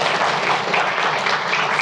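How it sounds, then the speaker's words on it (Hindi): Steady, dense applause from a gathering at a Buddhist vihara event in Nagpur, greeting a winning pair of women. The clapping is continuous and fairly loud, with no talk over it. "जोरदार तालियां इनके लिए"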